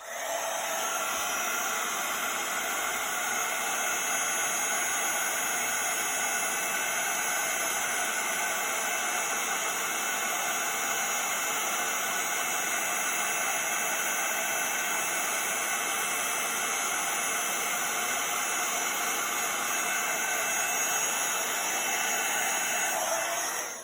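A heat tool blows a loud, steady hiss and whoosh as it melts WOW embossing powder on a Christmas card, holding unbroken at close range for the whole stretch.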